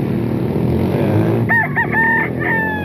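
Under a steady background hum and murmur, a rooster crows in a few short bursts, clear and fairly close, at a market where a seller has chickens for sale in the rain.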